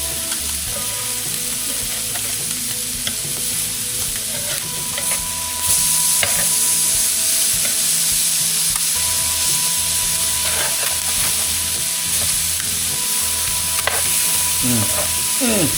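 Bass fillets sizzle steadily in a hot pan, a continuous close frying hiss with occasional crackles and stirring scrapes running the whole time, no talking over it.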